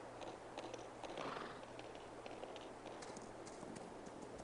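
Hooves of a ranch horse clip-clop steadily in Farming Simulator on an Alma, Missouri ranch map, a continuous moderate rhythm over a low engine-like hum and ambient game noise.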